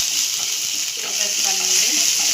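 Asafoetida frying in hot oil for a tempering, a loud, dense, close sizzle that runs continuously with faint crackles underneath.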